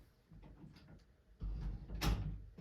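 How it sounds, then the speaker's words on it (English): An indoor room door is swung shut. Soft shuffling and handling lead into a firm thud as it closes. "close this door because my cat"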